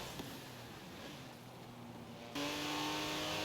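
A car engine in a racing video game revs steadily near the finish of a race, a continuous mid-pitched drone that jumps louder and higher about two-thirds through, heard alone.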